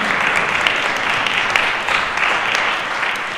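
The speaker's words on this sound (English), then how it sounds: "let's give them all a round of applause from wherever you are." Steady, dense applause from an audience at a school Thanksgiving assembly, honoring student performers; loud, even clapping continues throughout without pause.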